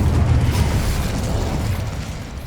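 A fiery Incendio spell cast in Hogwarts Legacy, heard as a loud, roaring whoosh of flame that surges at the start and rumbles steadily before easing slightly, with no talking.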